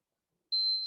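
A home communication device gives a single clear electronic beep, faint and thin, sounding after a moment of silence and holding briefly.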